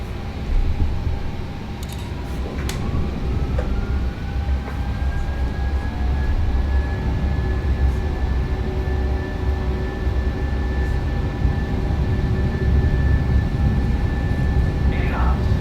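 Boeing 737-800 jet engines spool up for a rolling takeoff in a flight simulator, a steady loud roar with a rising whine that climbs and then holds, as the aircraft rolls down the runway in gusty wind.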